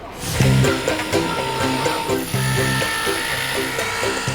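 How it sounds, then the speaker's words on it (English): A small electric cutting saw whirs with a high buzzing drone as it slices through sofa fabric pieces in a workshop, close by, with pitch shifting as the blade works through the material. "I love the sound of the little whizzy cutting saw"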